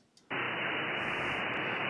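Steady hiss of background static bursts on abruptly as a Hermes-Lite 2 SDR HF transceiver is powered up in CW mode, a loud even wash of noise after a brief quiet start.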